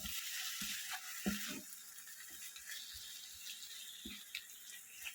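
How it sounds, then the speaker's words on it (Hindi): Mashed eggplant stirred with spices in a hot pan for masala baingan bharta, giving a steady sizzling hiss with soft, irregular scraping thumps from the spoon throughout, close and moderately quiet. "अभी जो हमने मैश करके रखा है ना बैंगन, वो डाल दीजिएगा और इसको मिक्स कीजिए अच्छे से मसाले के साथ"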